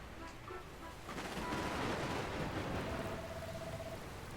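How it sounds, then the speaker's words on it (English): Rain in the video game Dragon Quest Builders 2, a steady soft hiss of falling rain that swells and thickens midway and continues without talk. "Where did this rain come from?"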